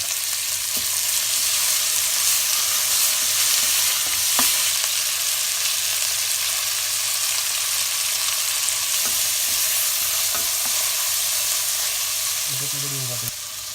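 Onion, green chili and curry leaves fry in a pan for mutton gravy, a continuous close sizzle with occasional stirring scrapes and clinks, and a brief clatter near the end.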